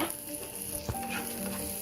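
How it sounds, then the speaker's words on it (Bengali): Onions frying in a pan make a soft, steady sizzle with a single brief stirring knock partway through, quiet and close, without any talking. "আমি এখন পেঁয়াজটাকে এভাবে ভেজে নেব"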